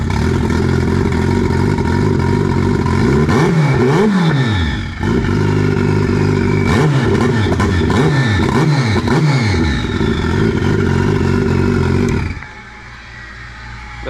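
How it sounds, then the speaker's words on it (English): A turbocharged gen 3 Suzuki Hayabusa engine, 550 hp, running on ethanol with ID 1700 injectors and a Greg Smith Max ECU, revs loudly in repeated rising and falling sweeps with a whining turbo, then drops abruptly toward idle. "that turbo is singing."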